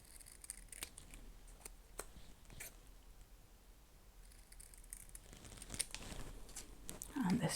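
Scissors make a few small, sharp snips while trimming excess white paper from a label in a napkin journal, close and quiet against a soft room background.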